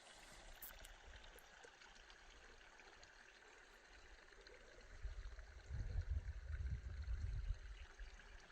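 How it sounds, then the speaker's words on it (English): Natural spring water trickling along the bottom of a canyon among water plants, a quiet steady wash that swells into a louder, closer burble in the last few seconds. "You can hear the spring."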